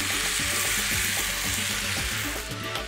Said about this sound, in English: Give the rice a stir and let it cook.